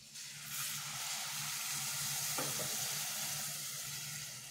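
A steady sizzling rush fills the clip as milk hits a hot pan for vermicelli kheer, hissing continuously after a quieter start, with a low hum underneath.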